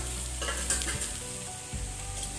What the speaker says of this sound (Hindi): मैंने आलू इसमें डाल दिया है बढ़िया से भूनने के लिए